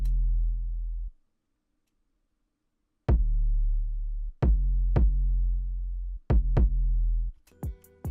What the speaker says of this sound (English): So the kick and 808 sound like this.